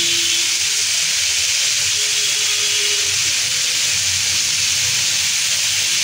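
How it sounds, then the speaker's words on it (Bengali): Vegetables sauté in a hot pan with a squeeze of lemon, giving a loud, steady, close sizzling hiss that continues without a break. "সবজিটা কষাতে কষাতেই এক টুকরো লেবু চিপে দিচ্ছি"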